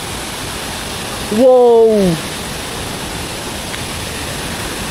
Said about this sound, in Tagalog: Ayun na yung falls. Ang lala, ang lakas.